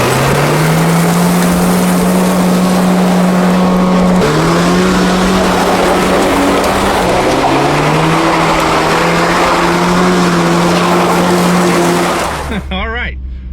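Car engine drones steadily while driving on a road with vodka in the gas tank, its loud, continuous tone shifting pitch as the car changes speed, before it cuts off abruptly at the end.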